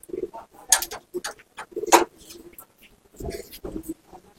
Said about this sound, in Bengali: এটা রেসিং পায়রা।